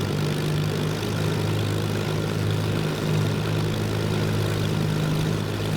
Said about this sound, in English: Just come up ever so slightly on the throttle to get the aircraft on the roll